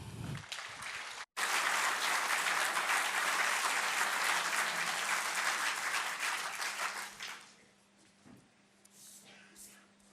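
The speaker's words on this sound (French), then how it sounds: "J'aimerais que vous lui fassiez un tonnerre d'applaudissements" Loud, sustained applause from an audience honouring Kilian Legrand of Palaiseau, starting abruptly after a brief gap and then tapering off over the last few seconds into quieter scattered claps.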